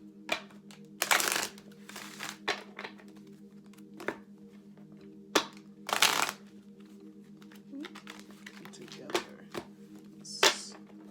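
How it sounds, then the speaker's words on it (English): Tarot cards shuffled by hand in bursts of riffling and rustling, separated by short taps and quiet pauses, close and fairly soft over a steady low hum. "So I'm going to give a couple more shuffles here."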